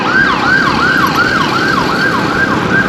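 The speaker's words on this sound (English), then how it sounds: "And a siren." An ambulance siren on a street in Santiago, Chile, wails in a fast, steady up-and-down cycle, loud and close, repeating continuously without any talk.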